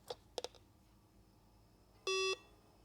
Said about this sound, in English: There's a beep noise